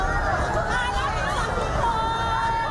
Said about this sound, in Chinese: 大批市民在場為運動員打氣